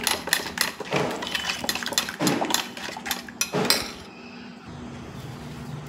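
A spoon stirring lassi with salt and cardamom powder in a vessel, quick repeated clinks and scrapes against the sides for about four seconds, close and moderately loud, then fading to quiet.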